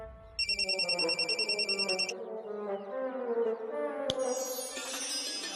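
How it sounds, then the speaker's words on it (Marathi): A telephone rings in a repeated electronic trill for about two seconds, loud and close, followed by a sharp click and a lingering tonal hum. "शोभा उचलत नाहीये का फोन?"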